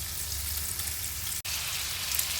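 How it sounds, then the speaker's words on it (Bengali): Spice masala with tomato fries gently in a pan for a bele fish curry, a continuous close hiss and sizzle with one short break. "এটা একটু হালকাভাবে ভাজা ভাজা হতে দিতে হবে"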